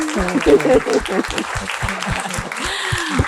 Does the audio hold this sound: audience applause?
yes